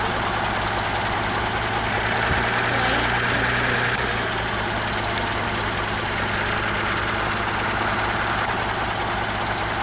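Tractor engine idling in a Roblox video game, a steady low rumble that holds continuously and fairly loud throughout, with no talk over it.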